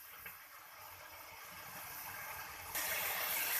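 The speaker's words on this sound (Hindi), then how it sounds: "इसके बाद मैंने इसके अंदर डालना है पानी।" Water pours steadily into a pot of turnip and meat curry, a continuous soft gushing that grows brighter and fuller near the end, with no talk.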